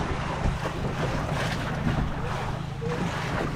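A fishing boat heading out to sea bound for Palawan, steady engine and hull rumble mixed with wind buffeting the microphone and water wash, continuous and close.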